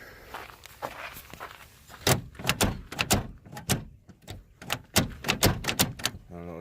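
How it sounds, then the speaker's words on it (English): A faulty car door is opened and shut, with sharp clunks and rattles repeating several times close by. "I don't know what's wrong with that door"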